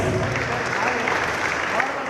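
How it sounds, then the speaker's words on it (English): An audience at an event in Goa claps for India swimmer Maana Patel as she lights the lamp, a brief, steady wash of applause filling the room. "Please give her a round of applause"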